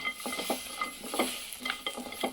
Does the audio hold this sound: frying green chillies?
yes